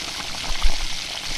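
Snail meat and fried potato sautéing with spices in a pan, a continuous soft sizzle and bubbling with a faint stirring bump midway, close and steady.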